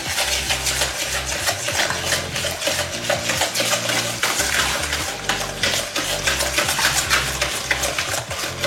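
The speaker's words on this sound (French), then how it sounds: "Voilà, on continue à faire notre mélange. Il faut bien mélanger." A spoon or whisk stirs chocolate cake batter with sugar in a bowl, producing steady scraping and clinking against the bowl, continuous and close, with no talking.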